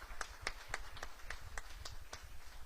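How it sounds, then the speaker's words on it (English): Applause for award winners at an Ashland town hall, a sparse rhythmic clapping of a few hands, roughly evenly spaced beats, faint and somewhat distant. "One last round of applause for all of our award winners."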